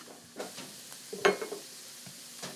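Onions frying in a pan while being prepared for a Thanksgiving dish: a soft, low sizzle with occasional stirring scrapes and one louder clatter, quiet and close.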